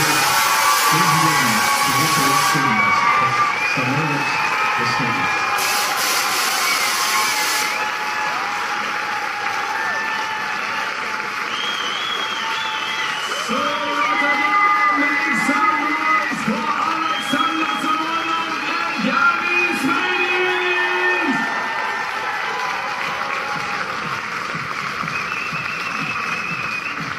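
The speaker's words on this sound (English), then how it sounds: "Listen to the crowds. They will give you a big, big, big hand." A large beach volleyball crowd applauding and cheering, a broad steady roar of clapping and whoops sustained throughout, with a voice speaking over it.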